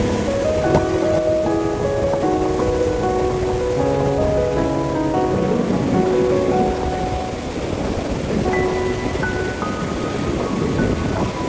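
Ocean waves wash ashore at night on Myrtle Beach, a steady, close, unbroken hiss of surf and foam with no talking over it.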